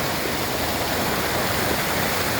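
A forest river rushes and flows in a continuous loud wash of water, steady and close, with no voices.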